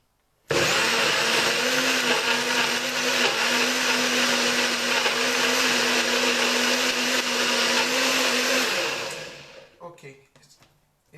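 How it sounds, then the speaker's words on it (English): A NutriBullet 900 series blender blending a thick breakfast drink, running with a loud, steady high whine for about eight seconds before stopping, followed by a few faint clunks. "that's going to be noisy because I want to blend now."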